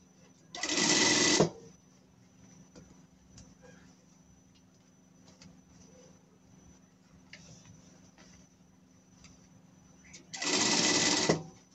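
Sewing machine stitching a costume seam in two short, steady whirring bursts at the start and end, separated by a long quiet stretch with faint handling noises.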